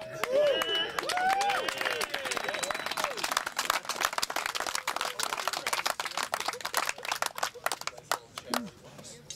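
Gallery crowd at disc golf Am Nationals applauding a drive on the uphill 13th hole, scattered claps building into a burst of applause with cheers, over nearby chatter and voices.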